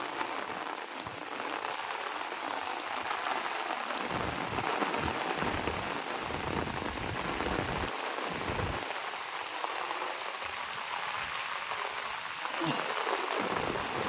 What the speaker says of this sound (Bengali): দেখতেছেন বন্ধুরা কীরকম বাতাসের সাথে খালি বৃষ্টির পানি দৌড় পাড়তেছে